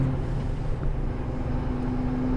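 A truck drives along a snowy road, giving a steady, loud, low engine drone with a constant tonal hum, close and continuous, with no voices.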